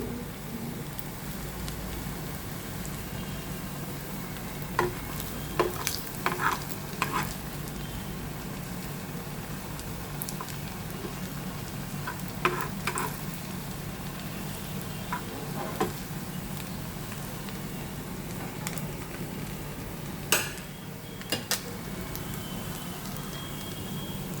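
Food frying in a pan until crisp and red: a faint, steady sizzle continues throughout, broken now and then by sharp clicks and taps.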